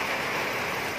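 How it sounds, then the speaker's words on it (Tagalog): Heavy rain and strong wind from Typhoon Ulysses lash a neighbourhood, a dense, unbroken roar of downpour and gusts that stays loud from start to finish. "Sobrang lakas ng ulan at hangin."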